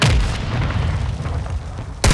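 Gunfire in the shooter Warzone 2.0 booms through a dense, continuous battle din with low thumps and crackle. A sharper burst of shots hits near the end.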